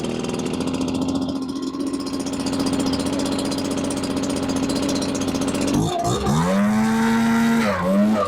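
A Stihl leaf blower engine with Electrostart runs loud and steady at idle, then cuts out briefly before restarting and revving back up with rising and falling pitch.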